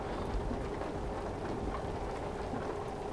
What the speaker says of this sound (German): Und ich bin gerade am Schauen, ob der Regen zufallsmäßig auf die Scheibe platscht.